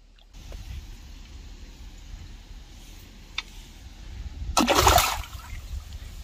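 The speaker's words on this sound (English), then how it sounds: "and then you can release them back into the water" At a lake used for coarse and ornamental fishing, a released fish drops back into the water with a short, sharp splash near the end, after a few seconds of quiet lapping and rustling close by.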